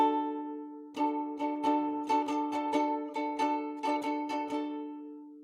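Ukulele chord strummed repeatedly in a steady, fairly quick rhythm, every string ringing out together with each stroke before the sound decays at the end.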